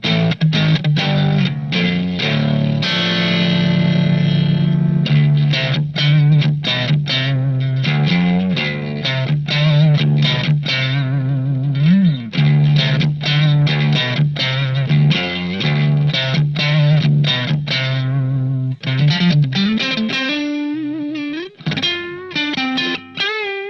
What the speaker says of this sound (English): a slightly overdriven bluesy vintage sound, so I picked a Marshall Bluesbreaker model for that